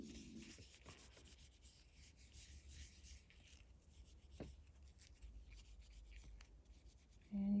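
Gilder's Paste Wax being rubbed onto a piece of jewelry gives soft, faint, repeated scuffing strokes close by in an otherwise quiet room.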